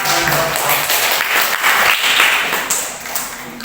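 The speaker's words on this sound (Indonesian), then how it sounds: "Kelompok Dua. kelompok 2. Beri tepuk tangan ya" A classroom of students claps for group two in a dense burst of applause that swells and then gradually thins out over a few seconds, heard close by with no talking over it.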